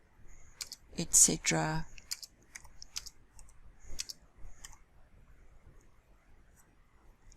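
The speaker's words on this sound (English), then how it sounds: "I will simply type in the numbers 1, spacebar 2, spacebar 3, spacebar 1," Typing numbers on a computer keyboard, a handful of sparse, light key clicks spread over several seconds, with a short bit of speech near the start.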